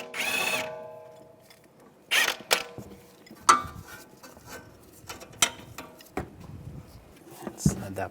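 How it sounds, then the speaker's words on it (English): Wrench and socket working a lower shock bolt on a 2004-2010 BMW X3, heard as scattered close metallic clicks, ratcheting and sharp clanks spaced irregularly, with a rattling burst at the start. "I'm going to use an 18mm wrench on the nut right here and a 16mm socket on the bolt."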